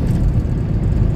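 A 1990 Cadillac Fleetwood Brougham engine hums low and loud as it runs in overdrive, a continuous rumbling drone with no distinct shift clunk and no talk.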